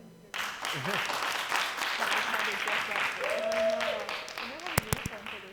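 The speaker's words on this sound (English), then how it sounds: "Clap for them." Audience applause rises suddenly and carries on, with voices talking and calling out over the clapping and a few sharp knocks near the end.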